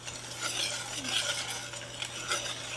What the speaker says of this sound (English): So we stir it up a little bit to get it to go